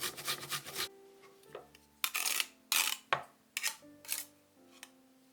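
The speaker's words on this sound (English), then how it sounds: "Grate a piece of ginger." Fresh ginger rasped against a grater in short scraping strokes, about eight close, crisp bursts with brief pauses between them, no voices.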